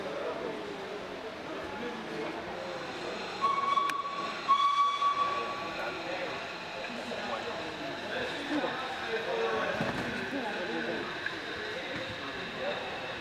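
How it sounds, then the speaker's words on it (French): A model steam locomotive at a model railway exhibition gives a thin steady whistle lasting about two seconds, set against steam hiss and a busy hall murmur, with people talking throughout. "On y voit des locomotives à vapeur ou diesel aller chercher des wagons trémies qui sont remplis de charbon"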